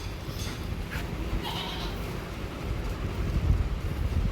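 A goat bleats at a goat farm, with a few short, fairly near calls rising over steady wind buffeting the microphone.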